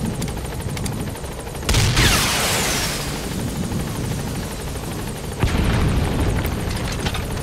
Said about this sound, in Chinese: 飞弹飞行速度有点慢